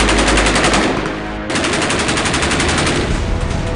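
Rapid, loud bursts of machine-gun fire from Iraqi soldiers fighting IS militants, a dense continuous rattle with a brief dip before resuming.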